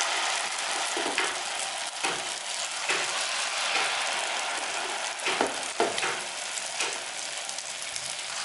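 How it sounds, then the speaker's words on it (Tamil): Batter made from maida and curd fries in hot oil as a Tamil evening snack, with a steady, loud, close sizzle running throughout and occasional stirring scrapes and small bursts rising through it. "இப்போ மீதம் இருக்கிற மாவையும் பொரிச்சு எடுத்துக்கலாம்"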